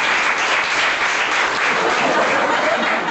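A crowd at a méchoui gathering claps loudly and steadily for Gilbert and Denis, a thick, unbroken wash of applause with no pauses.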